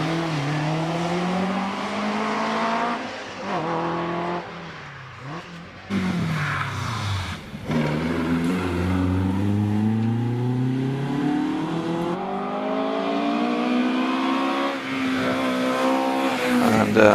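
An Alfa Romeo GT Junior race car accelerates hard up the Prescott hill climb, its engine note climbing through repeated gear changes and surging again. Loud and close, with a brief lull and a faint tire squeal partway through.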